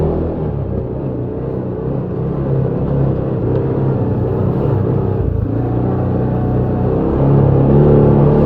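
A 2022 CFMoto ZForce 500 side-by-side accelerates flat out on a top speed run, its engine droning in a loud, steady rumble that rises slightly in pitch and strength toward the end, recorded close with wind noise.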